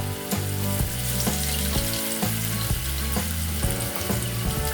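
Potatoes fry in hot oil with a steady, close sizzle and crackle, set against a rhythmic, pulsing musical backing that repeats every half second or so.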